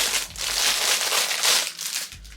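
A pack of plastic toiletry bags being opened, a steady close crinkling and crumpling of thin plastic that keeps going for a couple of seconds.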